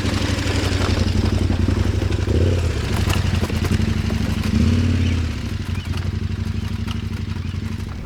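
A motorcycle engine idles and revs unevenly with clattering, close by, as the bike eases down a steep rocky step on rough terrain in Corsica; faint voices in the background.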